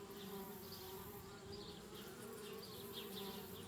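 Steady insect buzzing from bees swarming around a treehouse in a video game, a continuous mid-level drone with slightly wavering pitch that holds for the whole span, with no voices over it.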